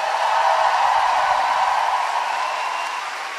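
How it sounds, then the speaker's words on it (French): Concert crowd at the Olympia in Paris cheers and applauds a bassist and guitarist, a dense, even wash of clapping that slowly fades. "merci d'applaudir"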